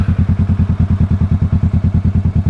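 A 650 motorcycle on an early morning ride gives a close, loud, low engine thrum with a steady, rapid pulsing beat that holds an even rhythm throughout.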